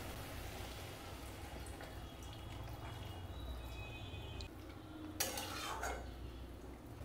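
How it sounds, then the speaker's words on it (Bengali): Jackfruit curry is stirred in a pan after a little water is added, giving faint, soft scraping and wet stirring under a low hum, with a brief splashy burst near the end. "এবারে আমি এঁচোড়টা এর সঙ্গে মিশিয়ে দেব। এবারে এখানে সামান্য একটু জল দিয়ে"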